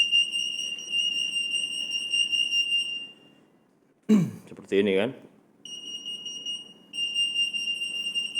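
A library's 58 kHz AM anti-theft sensor gate alarm sounds a continuous high electronic tone. It cuts out briefly while a person speaks, then resumes.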